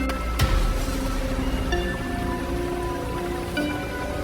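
Heavy rain falls in a horror cartoon scene, a steady dense hiss of downpour that stays loud throughout, with a faint tonal underscore and no talking.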